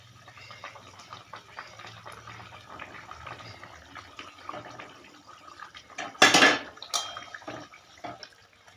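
Fish pieces go into a boiling curd gravy in a pan: soft bubbling and light clinks, then a sudden loud splash and clatter followed by a smaller knock.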